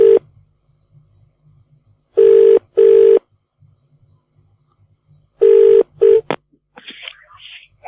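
Telephone keypad tones beep in short bursts, two pairs of pure tones separated by quiet, followed by a few softer clicks and line noises as a call is placed.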